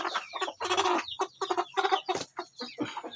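Three-month-old native chickens cluck and chatter close by in a rapid, busy run of calls lasting a few seconds, with no talking over them.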